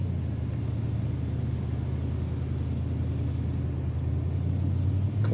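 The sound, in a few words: exhaust rumble of a 1983 Chevrolet Monte Carlo SS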